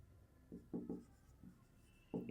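Pen scratching out a few short strokes on paper during a math exercise, faint and close in a quiet room.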